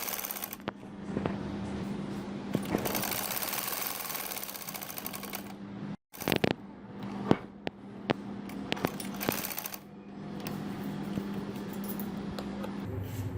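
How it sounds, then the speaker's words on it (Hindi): A sewing machine stitches the side seam of a kurta, running in a fast steady whir close by, broken by brief stops and a few sharp clicks before it starts up again. "अब इसको मैं सिलाई लगाने लगी।"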